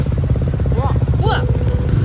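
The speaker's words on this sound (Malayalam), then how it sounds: "അങ്ങനെ നമ്മളിത് ബൈക്ക് റൈഡ് സ്റ്റാർട്ട് ചെയ്തു ഗൈസ്" Several motorcycles ride off together at night in Kannur, their engines droning close and steady in a throbbing, low rumble. Brief voices chirp over the engine noise.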